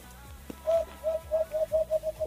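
A person imitates a bird call by blowing through cupped hands, producing a run of about seven short, hollow, coo-like whistled notes in a quickening rhythm. The notes are close and clear, with faint background noise.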